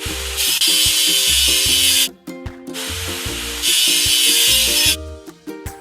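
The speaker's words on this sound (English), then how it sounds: "Let's get rid of the machine's rust." A toy-like, game-style scrubbing sound plays as rust is cleaned off a machine in a truck game. It rasps loudly and steadily in two long bursts over a looping musical backing.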